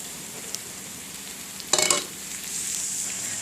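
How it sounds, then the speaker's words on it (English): Onions and chopped spinach sauté in a hot pan, giving a brief loud sizzle with stirring in the middle, then a steady frying hiss that continues to the end. "Toss the spinach around until they are all wilted, which should take about 1 minute."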